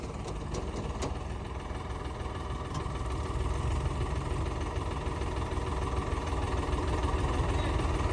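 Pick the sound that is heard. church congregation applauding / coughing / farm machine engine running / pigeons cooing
farm machine engine running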